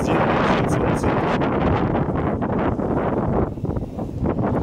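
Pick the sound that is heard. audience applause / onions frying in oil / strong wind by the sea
strong wind by the sea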